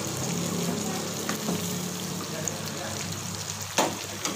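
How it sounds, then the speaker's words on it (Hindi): Water poured into a pot of cooking chicken and tomatoes for a Hyderabadi biryani, giving a steady close sizzle and bubbling hiss with a few brief clinks. "1 कटोरी हमने पानी की ऐड कर दी है।"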